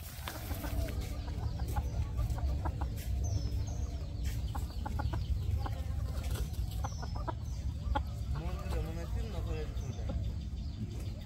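Native country chickens cluck and call repeatedly at close range over a steady low rumble, with voices talking in the background.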